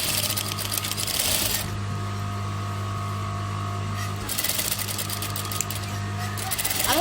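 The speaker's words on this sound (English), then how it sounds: "I like to sew the side of my jilbab with the tiniest stitch on my machine" Sewing machine stitching the side seam of a jilbab with a tiny stitch, a close, steady mechanical whir with rapid needle clatter, pausing briefly mid-seam before running again.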